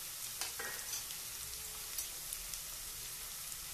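Garlic paste fries in a pan for masala oats, a faint, even sizzle with soft crackles that runs unbroken and unaccompanied by any voice.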